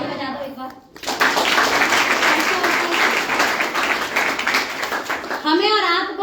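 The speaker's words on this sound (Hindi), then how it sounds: "बढ़िया, ताली बजा दो एक बार।" An audience claps together in a sustained burst at a business promotion talk, dense and fairly loud for about five seconds, with a voice before and after the applause.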